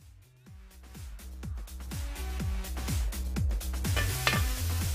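Food sizzles and fries in a cast iron skillet over a campfire in the mountains, a steady loud crackle with repeated metallic scrapes and knocks from stirring, growing slightly louder throughout.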